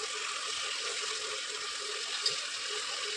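Water pours steadily into a pot of chicken biryani cooking in a home kitchen, a continuous close splashing rush that stays even throughout, with no talk.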